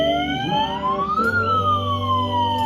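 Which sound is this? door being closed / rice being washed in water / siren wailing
siren wailing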